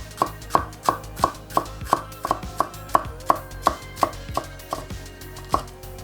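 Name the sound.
knife julienne-cutting onions and peppers for fajitas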